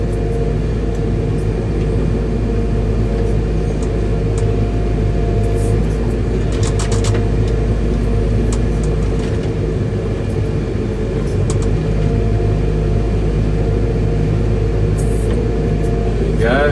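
A CASE CX235 excavator moving a stockpile on a dig site, its engine droning loud and constant throughout with hydraulic whine and occasional metallic clanks layered on top.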